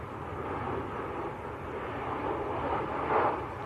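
A Ryanair airliner from Lanzarote landing at Manchester Airport produces a distant, steady broadband roar with wind noise, swelling slightly toward the end, no voices.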